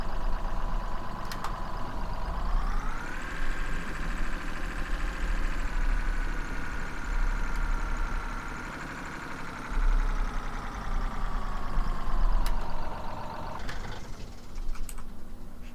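A fire truck engine idles and revs steadily in Farming Simulator 17, a continuous droning hum with a rising pitch after a few seconds, holding near and fairly loud before a brief shift near the end.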